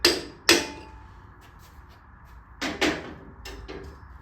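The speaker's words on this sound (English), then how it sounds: "I'll only use a rubber mallet if I'm going to hit the actual axle" A rubber mallet hits the rear wheel axle of a Shovelhead motorcycle, giving two firm knocks close together and then a few softer thuds after a pause, with light clanking in between. No one talks.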